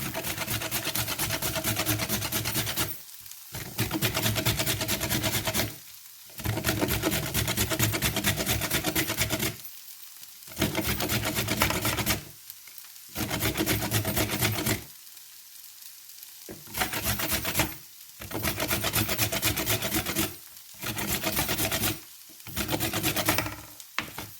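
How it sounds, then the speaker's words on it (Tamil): A carrot is grated by hand in a home kitchen: long bursts of coarse, rasping scrapes repeat in a steady rhythm, separated by short pauses. "நான் இப்போ கரட்டை துருவ போகிறேன்."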